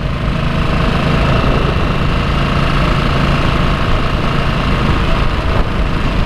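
A Harley-Davidson Nightster motorcycle engine runs at a steady, moderate speed, around 3,000 RPM, with a continuous low drone and no pauses or other sounds.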